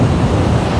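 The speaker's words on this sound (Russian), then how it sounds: "И полетела волна." Storm waves crashing on a beach at Dzhemete in Anapa, a loud, close, continuous wash of surf and wind roar.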